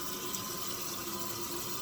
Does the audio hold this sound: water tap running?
yes